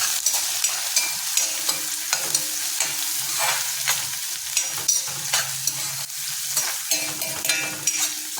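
Stirring and frying in a hot pan as a tempering of onion, garlic, curry leaves and asafoetida cooks for a Konkani jackfruit bhaji, with steady close sizzling and repeated spoon scrapes, no talking.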